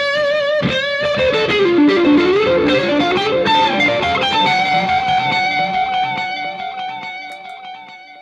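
Electric guitar played through a Boss DD5 delay pedal, a loud, clean-to-driven line with repeating echoes that pile up and trail on, slowly thinning toward the end. No one speaks.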